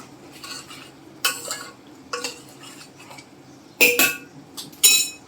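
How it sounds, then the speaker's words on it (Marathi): A spoon scrapes and clinks against a metal pot while sugar is stirred into rice kheer, in several separate bursts with quiet gaps between them, close up and with no talking. "तर ते छान असं ढवळून घ्यायचं आहे"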